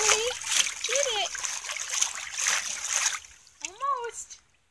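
Water splashes repeatedly in a pool in bursts of wet slapping and spattering, with a voice and other chatter over it before it fades out.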